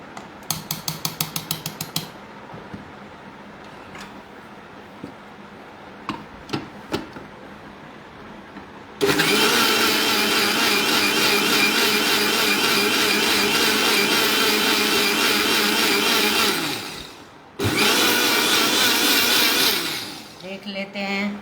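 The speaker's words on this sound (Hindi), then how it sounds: "अब हम इसको फिर से चर्न करेंगे कि सब एकदम से अच्छे से" A kitchen blender churns a mixture with milk in a loud, steady whir lasting about eight seconds, stops briefly, then whirs again, after some clinks and taps of dishes and utensils.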